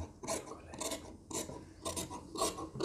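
Scissors trim the excess inner fabric from a stitched neckline with buckram, giving close, rhythmic rasping snips in several short bursts, with no talking.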